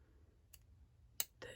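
Small scissors snip thread while finishing a beaded clasp, giving two quick, crisp clicks close to the mic in a quiet room, the second one sharper.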